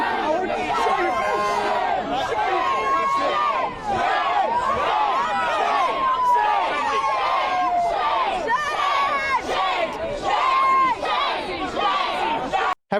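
Crowd of protesters shouting at police officers, a dense wall of raised, overlapping voices and yells that stays loud and continuous throughout, with a few sharper cries rising above the din.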